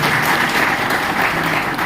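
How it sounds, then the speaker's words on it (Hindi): A seated audience at a business training session breaks into strong, continuous applause, a dense and even wash of many hands clapping at once, loud and steady throughout with no voices on top. "तो एक जोरदार तालियां होनी चाहिए इस रैंक के लिए"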